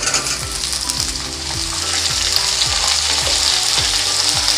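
Sliced radish frying in hot oil in a pan for radish sambar, a loud continuous sizzle with regular scraping strokes of a spatula stirring through it, close and steady with no voices.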